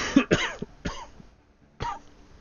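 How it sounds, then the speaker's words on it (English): A sick man coughing close to the microphone, a quick cluster of harsh coughs followed by a couple of weaker ones after a short pause. "Man, I don't like this cough."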